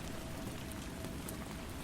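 Gentle rain falls steadily in a soft, even hiss of droplets, quiet and continuous with no voices.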